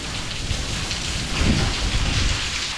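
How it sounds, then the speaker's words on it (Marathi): Heavy monsoon rain pouring steadily on a Sahyadri hill fort trek, a dense, loud, unbroken wash with a slightly heavier burst midway. "पण पाऊस कंटिन्यू सुरू आहे"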